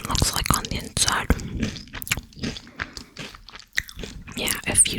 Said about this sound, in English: if you don't like mouth sounds and chewing, then this video's not going to be for you